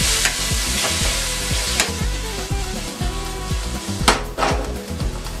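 Pasta sauce with a pinch of turmeric stirred in a pan, a utensil knocking and scraping in a rhythmic series of close, loud strokes over a bubbling simmer.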